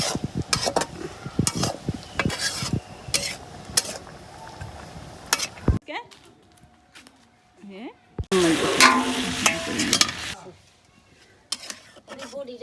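Turmeric, chilli powder, ginger and garlic paste and cumin are sautéed in a pan, giving an uneven sizzle with clattering utensil knocks and stirring, a quiet stretch midway, then a loud hissing burst.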